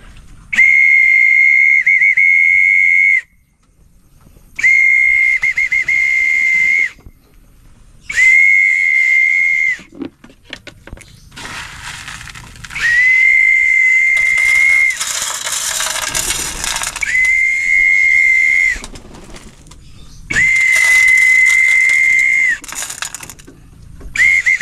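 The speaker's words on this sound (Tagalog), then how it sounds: "Sipol muna tayo." Someone whistles loud, sustained single notes at feeding time for catfish, repeated in several long blasts separated by short silences, with some rustling noise in the middle.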